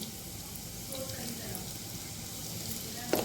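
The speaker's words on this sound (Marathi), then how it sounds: "आपण जिरं टाकायचं लसूण पण मी पाच सहा लसूण ठेचून घेतलेलं आहे चांगलं त्याच्यानंतर हिंग टाकूया आपण" Cumin, crushed garlic and asafoetida sizzle in hot oil while okra with green chillies is being made. A soft, even sizzle runs throughout, with a brief sharp clink near the end.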